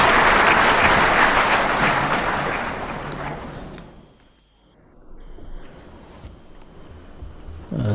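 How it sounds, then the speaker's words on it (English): Loud applause from an audience fills the opening seconds, then fades away, leaving quieter room noise before a few claps pick up again at the end. "do join me in giving a very warm round of applause"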